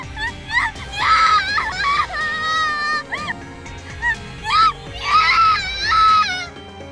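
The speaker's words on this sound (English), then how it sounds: "Her screams are intense." A girl screams in the Corpse Party video game, loud, shrill, wavering cries in several long bursts with short gaps, over low background game noise.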